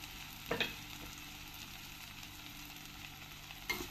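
Brinjal bharit mixture of fried eggplant with turmeric and salt sautéing in a pan, a quiet steady sizzle with a couple of brief stirring scrapes near the start and end, no voices.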